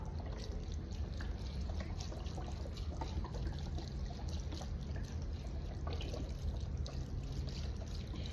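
Low sodium chicken broth poured into a pot of soup, a steady continuous splashing trickle lasting several seconds, quiet and close with no voices.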